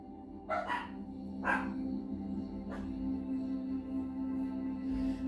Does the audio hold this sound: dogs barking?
yes